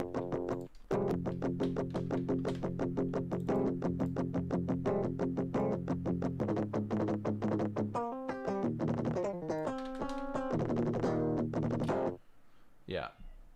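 A distorted guitar tone from MIDI-programmed DI reamped through Amplitude 5 churns out fast, tight palm-muted chugs that shift into sustained chords before stopping abruptly, with brief noise after.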